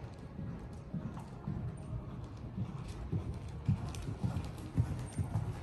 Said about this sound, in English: Lovely big canter.